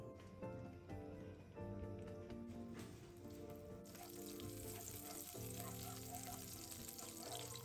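Thirty grams of butter melt in a wok over medium-low heat, sizzling and bubbling softly and continuously. The sound is faint, with no voices.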